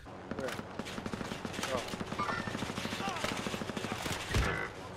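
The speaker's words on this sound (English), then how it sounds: "Oh, somebody just sniped me!" Video game gunfire, with sniper shots in the mix: a steady string of sharp, quick shots crackles throughout at moderate loudness, with one heavier blast near the end.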